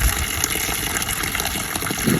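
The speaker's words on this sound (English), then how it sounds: "I've been waiting for this to drain. Whenever water stops pouring out of it," Water gushes steadily out of the return fitting of a Coleman above-ground pool being drained for winter, a loud, continuous rushing flow that holds constant throughout.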